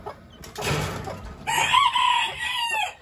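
Standard bantam Silkie chickens clucking and crowing nearby in a breeding shed, a burst of calls followed by a longer drawn-out squawk.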